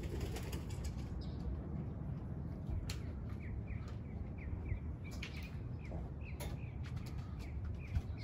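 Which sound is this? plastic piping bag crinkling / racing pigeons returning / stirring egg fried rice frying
racing pigeons returning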